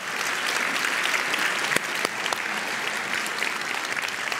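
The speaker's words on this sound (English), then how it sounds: "Oh yeah, you can clap for that too" A church congregation claps after a baptism, dense steady applause filling the room with a few louder individual claps standing out.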